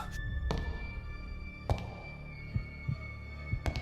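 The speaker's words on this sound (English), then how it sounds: "I could feel my heart pounding in my chest." Slow, deep heartbeat thuds pound in a dramatic audio play, a few heavy beats spaced apart over a low droning hum, with no voices.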